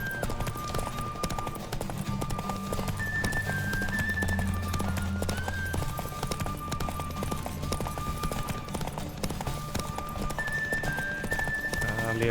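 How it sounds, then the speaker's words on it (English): Horse hooves galloping in a rapid, steady clip-clop while riding in The Witcher 3, continuous and fairly loud throughout, layered over game music and ambience. "เวทขี่ม้านี่คือชอบอยู่แล้ว"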